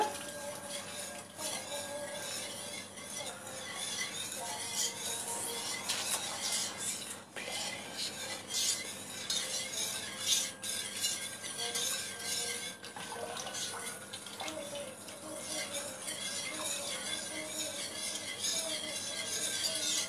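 Food being mixed in a bowl for Turkish pide or yogurt soup, with soft scraping and clinking of utensil against dish, intermittent and close, along with faint background kitchen noise and some talk.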